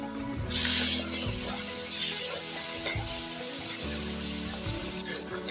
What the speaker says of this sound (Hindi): आधा मिनट तक तकरीबन इसे अच्छी तरह से हमने भून लेना है